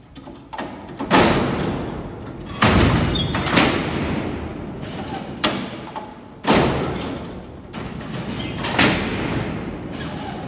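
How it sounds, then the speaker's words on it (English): Heavy steel cell doors at Alcatraz prison slide and slam shut several times, each a loud booming crash followed by a long metallic rattle and echo through the cellblock, with no talking. "Now you're going to hear these doors slam on you about 6 to 8 times a day."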